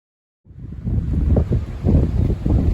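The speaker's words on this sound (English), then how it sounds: "Sorry about this wind, guys." Gusty wind buffets the microphone in loud, rumbling surges after a brief silence, with no voices, at a mountain trailhead about 8,900 feet up.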